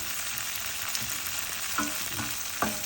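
Tofu frying in a pan until crisp sizzles steadily and close, with a few soft scraping stirs and clinks breaking through the hiss.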